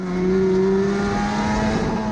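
A race car engine at Gympie Speedway holds a loud, steady high drone as it runs against the rev limiter, the pitch sitting flat and then shifting slightly, close and continuous with no talk.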